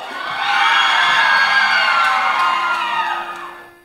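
Loud crowd at a Costa Azul contest in Siuna cheering and whooping for a young male contestant, a dense swell of shouting voices that rises quickly, holds for several seconds and then fades.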